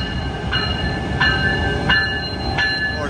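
Amtrak Capitol Corridor passenger train arriving at Emeryville station, a steady rail rumble with recurring high tonal squeals or horn-like bursts at regular intervals, heard alone without talk.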